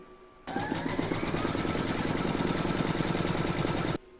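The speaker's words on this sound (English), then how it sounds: "you're going to pop your hoop into your machine and stitch round number 1" An embroidery machine stitches a placement outline on stabilizer held in a hoop, a steady rapid mechanical whir and needle patter that starts abruptly, runs for about three and a half seconds, then stops.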